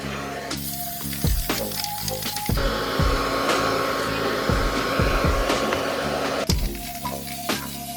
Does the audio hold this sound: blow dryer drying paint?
yes